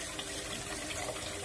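Tap water running into a container used for soaking orchids with normal detergent, a steady, quiet rushing flow with no other sounds over it.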